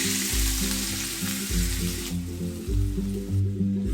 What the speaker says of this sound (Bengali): মশলাটা ভালো করে ভেজে নিতে হবে